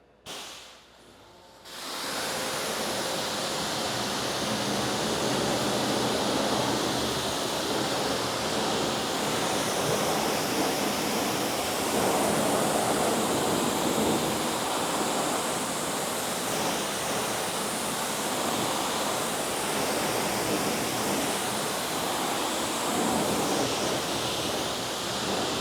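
A strong spray of water rinses a car, a dense, loud, continuous hiss that starts abruptly after a short quiet moment and holds steady throughout.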